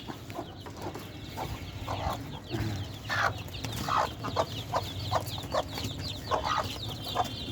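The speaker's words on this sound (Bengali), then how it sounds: "আরও একটা মুরগি বাচ্চা নিয়ে আছে" Hens with chicks cluck in a farmyard coop, with repeated short clucks and soft peeps scattered over a low background hum. The sound is fairly faint and mid-distance, and no one speaks.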